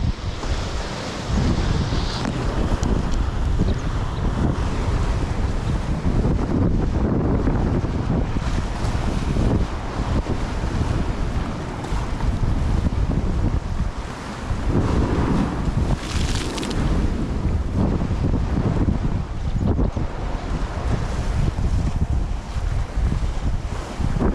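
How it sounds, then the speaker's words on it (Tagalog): Strong sea waves crash and surge on a beach in Amlan, Negros Oriental, Philippines, a loud continuous roar of surf with gusting wind buffeting the microphone and no talk. "lakas ng alon"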